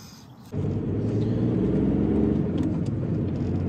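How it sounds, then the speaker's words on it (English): An Audi A2 TDI diesel with a newly fitted JDD gearbox, heard from inside the car: the engine rumble rises abruptly near the start and then holds a steady, loud, close drone. "I'm in a running and driving Audi A2"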